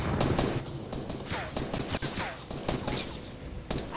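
Gunfire in a first-person shooter video game, a loud string of sharp shots and bursts in quick irregular succession with little pause between them.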